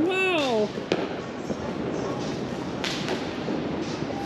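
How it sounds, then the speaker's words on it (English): Loud New Year's fireworks in a Philippine street, with sharp close bangs and crackling bursts over a steady roar of smoky crowd noise; a whistling rocket rises at the start and people can be heard talking. "Where do they get these like super insanely loud fireworks?"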